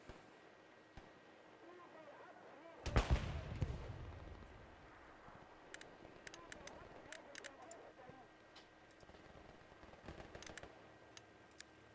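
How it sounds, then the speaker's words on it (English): A bombing run in Hell Let Loose lands as one heavy, rumbling explosion burst around the three-second mark, followed by scattered faint distant gunshots and ticks over quiet battlefield ambience. "This bombing run was probably a little early."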